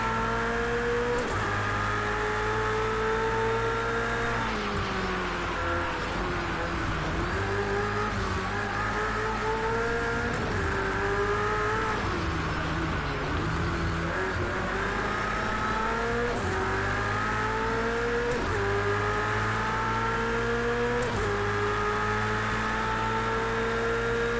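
Race cars in Project Cars 2 on PS4 Pro scream through the gears in a continuous loud run, engine pitch repeatedly climbing and dropping with upshifts and braking, other cars' engines layered underneath.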